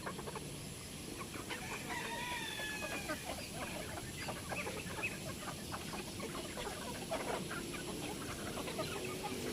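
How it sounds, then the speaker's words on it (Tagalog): Several roosters crow at a poultry farm in Padre Garcia, Batangas, their calls rising over constant clucking and background chatter from many birds, fairly distant and layered. "Daming tandang nito."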